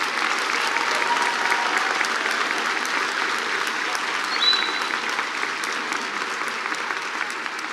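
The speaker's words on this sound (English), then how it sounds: "Please do applaud." A large crowd at a college of nursing commencement applauds a graduating class in an even, sustained roar of clapping, moderately loud and heard from a slight distance.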